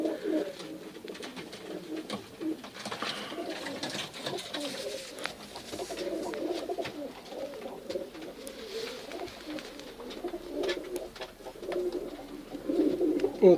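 Tajik pigeons coo softly and repeatedly in a cold dovecote, with several birds making overlapping throaty calls nearby and faint shuffling in between.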